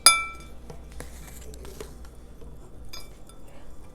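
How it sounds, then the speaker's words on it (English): A fork working room-temperature softened butter and brown sugar together in a bowl for mini pumpkin pies, giving a sharp clink at the start, then soft scraping and light taps against the bowl, close and quiet. "And what we're gonna do now is we're just gonna use a fork,"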